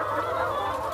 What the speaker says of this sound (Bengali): দেখতে পাচ্ছেন আমার শখের মুরগির খামার